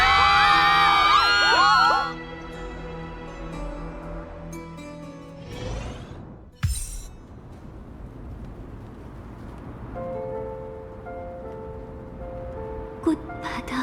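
A crowd in the Honkai: Star Rail game roars in a burst of whoops and shouting cheers for about two seconds, then falls away, leaving quiet ambience, a whoosh and soft tones.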